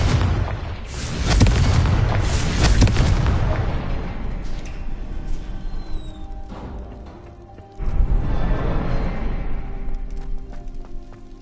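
A Confringo fire spell in Hogwarts Legacy bursts in a loud, booming explosion, followed by a second blast partway through, with rumbling debris and magical whooshes trailing off between them.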